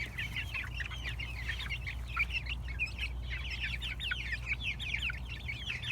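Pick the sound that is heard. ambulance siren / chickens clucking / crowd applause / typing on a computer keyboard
chickens clucking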